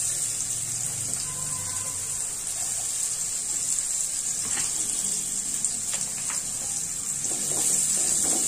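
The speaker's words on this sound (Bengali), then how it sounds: "পেঁয়াজ কুচি দিয়ে দেব।" Chopped onion frying in oil in a home kitchen pan, with fish oil and a little fresh oil, sizzling as a steady loud hiss that runs unbroken throughout, with faint clinks underneath.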